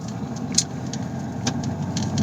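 A Tata Harrier's diesel engine drones steadily while driving in city traffic, a close, even low rumble with a few faint clicks and no talking.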